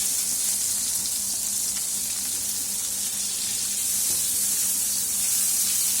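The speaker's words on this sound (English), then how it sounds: "just fry the onions till it's translucent" Onions fry in a pan with a steady, even sizzle, a constant close hiss that holds without pause and with no talking.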